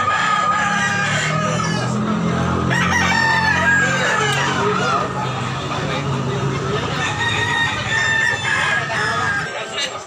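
Several roosters crow repeatedly over a dense, noisy crowd at a busy Sunday chicken market, with bullstag gamecocks for sale and people chattering throughout.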